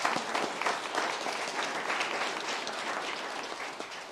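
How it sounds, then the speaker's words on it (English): A room full of people at a town commission meeting breaks into sustained applause, even and fairly quiet, lasting about four seconds with no talk over it. "One more time, please give everybody a round of applause."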